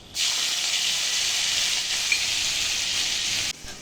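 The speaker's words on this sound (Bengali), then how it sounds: "বেরেস্তা হয়ে গেলে ওই তেলের মধ্যে আমরা কালো জিরে ও পেঁয়াজ কুচি দিচ্ছি ফোড়নে" Black cumin and chopped onion hit hot oil for tempering with a loud, steady sizzle that holds evenly for about three seconds, then cuts off.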